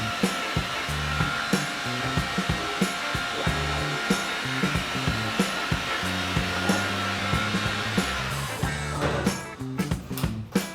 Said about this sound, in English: I will use a heat gun, heat up the foil, and then I can peel it off very easy.